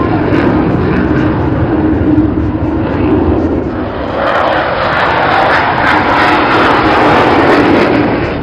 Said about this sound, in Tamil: ரஃபேல் விமானங்கள் வானில் நிகழ்த்திய சாகசங்கள்